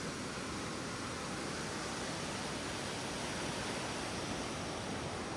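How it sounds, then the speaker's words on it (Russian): The Mzymta, a full mountain river swollen by rain and snowmelt near Rosa Khutor, Krasnaya Polyana, rushes in a loud, constant roar of churning water, close by and unbroken, with no voices. "Это река Мзымта, она полная. Послушайте этот звук."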